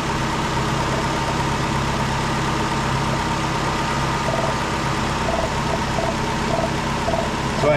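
A 2009 Ford Escape idles steadily close by with the EVAP purge solenoid cycling, its faint repeated ticks recurring at a regular rhythm over the continuous engine hum, with no talk.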